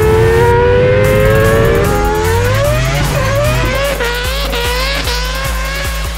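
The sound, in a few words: Mazda RX-7 rotary engine revving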